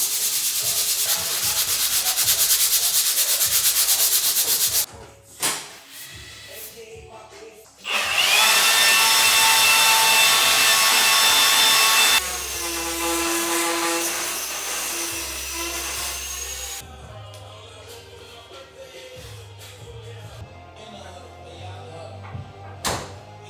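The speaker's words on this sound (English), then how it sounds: "A couple low spots that I gotta fully sand down" A power sander working body filler on a crashed Nissan 240SX, a loud, steady abrasive whine close up in long passes with short breaks, the pitch shifting between sections and ending on quieter rubbing.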